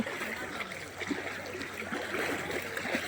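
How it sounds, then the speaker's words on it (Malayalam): A small, faint flow of clear water running down past a bund, giving a soft, steady trickling stream sound with no talk. "വെള്ളത്തിൻ്റെ കുറഞ്ഞ ഭാഗം മാത്രമേ താഴോട്ട് ഒഴുകുന്നുള്ളൂ"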